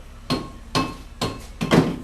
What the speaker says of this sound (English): Back to the soft dead blow hammer, pull the disc off